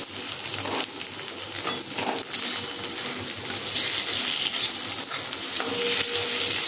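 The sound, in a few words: onions frying in a pan before adding tomato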